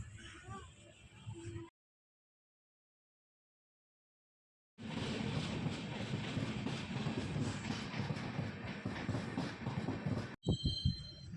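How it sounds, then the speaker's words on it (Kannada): Gol Gumbaz Express pulling into Bagalkot junction, a loud, steady rumble of rolling rail cars heard close by after a brief gap of silence, with a short burst of clatter near the end. "ಇವಾಗ ಈ ಗೋಲ್ ಗುಂಬಜ್ ಎಕ್ಸ್ಪ್ರೆಸ್ ಟ್ರೈನು ಬಾಗಲಕೋಟೆ ಜಂಕ್ಷನಿಗೆ ಬಂತು."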